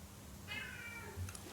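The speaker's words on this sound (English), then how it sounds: "this is my cat opening the door now" A pet cat meows once, a drawn-out mid-pitched call, while opening a door at home; a low thump follows near the end against faint room noise.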